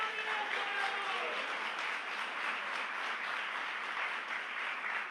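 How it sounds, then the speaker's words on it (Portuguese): A church congregation applauding during a sermon, a steady wash of clapping at moderate distance, fairly soft and sustained without pause. "Se é para aplaudir, aplauda forte"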